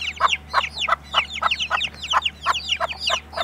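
Chickens in a village yard clucking in quick, rhythmic bursts, close and fairly loud, with a low steady hum underneath.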